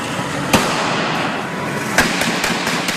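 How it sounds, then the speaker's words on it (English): A few sharp, sudden bangs stand out over a steady roar of background noise, spaced irregularly like scattered gunshots at moderate distance. "Then the heavy gunfire ensues, sparks in the streets. More than a dozen shots."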